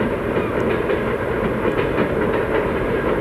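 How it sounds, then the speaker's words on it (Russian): An electric commuter train passes on Khortytsia island in Zaporizhzhia, a loud continuous roar of wheels with rhythmic clickety-clack over the rail joints and a faint hiss, heard alone without voices. "Эта электричка, наверное, пошла"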